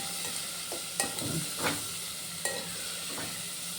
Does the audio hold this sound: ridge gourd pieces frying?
yes